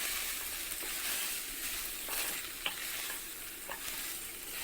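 Cooked wheat noodles stirred and tossed in a hot pan, a constant bright sizzle with soft scraping and clicks of a utensil at irregular moments, close up and with no talking.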